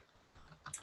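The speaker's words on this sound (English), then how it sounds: "I can just hear the typing" Faint, quick clicks of typing on a computer keyboard, a brief burst of key taps near the end picked up through an online conference call, with no talk over it.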